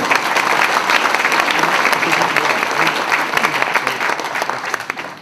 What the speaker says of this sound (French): vous pouvez même vous applaudir pour être venus aussi nombreux ce soir avec nous.